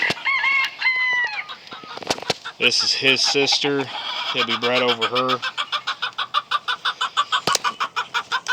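Bearded buff chickens in a brood pen cluck and call up close, with a crow-like squawk and a run of rapid, rhythmic clucks, while someone talks over them.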